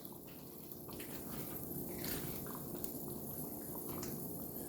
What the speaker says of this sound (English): I'm gonna let it simmer for an hour before I serve it